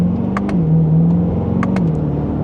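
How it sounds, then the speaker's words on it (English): Chevrolet Corvette C8 2LT pulling away from second gear with the exhaust in Z mode, a steady engine drone rising and dipping in pitch as it accelerates, close and fairly loud with no talk. "We'll put it in Z mode so that exhaust got louder. And from second gear, here we go."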